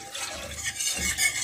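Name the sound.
stirring yogurt into lukewarm milk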